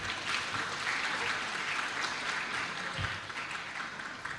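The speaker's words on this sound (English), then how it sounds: "Now let's give applause for him." At an academic conference, an audience gives a speaker steady applause that sounds fairly distant and fairly quiet, with a few sharper claps standing out.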